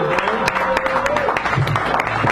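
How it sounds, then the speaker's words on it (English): An audience at a poetry reading in a San Francisco cafe claps at moderate volume. The scattered, uneven claps run under a faint sustained tone and a murmur of voices. "Another round of applause."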